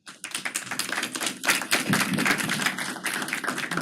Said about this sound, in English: Hopefully there won't be any boos tonight, but we got applause.